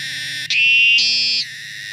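A loud, continuous high-pitched buzzing drone of a cicada, close up, shifting pitch slightly in a couple of steps.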